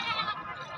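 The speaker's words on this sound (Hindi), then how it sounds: "ये जनाब बकरी ने, ठीक है ना" A goat for sale at a livestock market, a nanny with two kids, gives a brief, fairly loud bleat lasting under a second. No one speaks over it.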